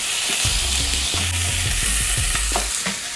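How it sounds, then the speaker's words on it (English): Keema mince browns in a hot pan with a loud, dense sizzle, as repeated spoon scrapes and knocks against the pan come in a busy, uneven rhythm; no talk. "Stir and keep browning."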